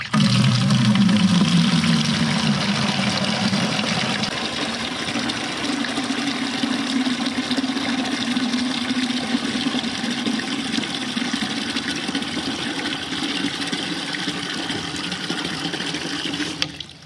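A newly installed frost-free yard hydrant runs during a test, giving a continuous, fairly loud rush of flowing water that is steady for the whole stretch.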